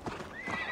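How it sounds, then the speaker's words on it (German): A couple of horse hoof clops sound close together in Assassin's Creed: Valhalla, followed by a brief whinny, short and fairly quiet. "Das Pferd, ne?"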